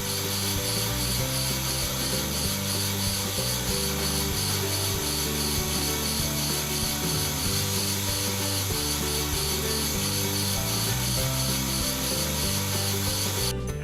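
A number 10 coarse-cut file rasps steadily across a brake part in repeated rhythmic strokes, close and continuous with no talk.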